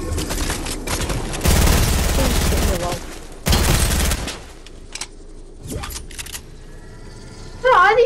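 Gunfire rings out in the video game Fortnite, with two loud sustained bursts of automatic fire and a later short burst, mixed with game effects and a voice in the background.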